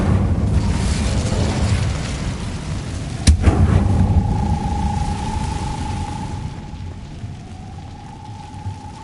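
A fire spell blast in Hogwarts Legacy gives a loud, rumbling wash of sound with one sharp crack about a third of the way in. A steady humming tone follows and fades as the roar settles.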